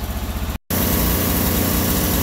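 A Sears Suburban loader's 20HP V-twin engine runs rough during a cold winter start, a loud, close, steady chugging that cuts out for an instant before resuming.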